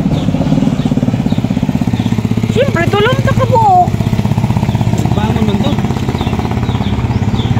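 Motorcycle engine idling or running at close range with a steady, rapid pulsing chug throughout, while people talk over it.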